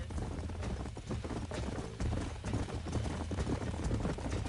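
Horse hooves clip-clopping in the video game Red Dead Redemption, a steady, dense stream of hoofbeats under a continuous music and ambient game bed, with no talking.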